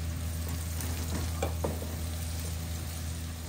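Onions fry in a pan for pancit canton, a steady close sizzle with a few scraping stirs of a utensil partway through.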